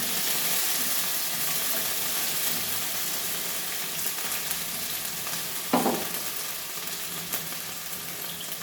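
Potatoes fry in a pan with a continuous, even sizzle, broken once by a short clatter of a utensil near the end.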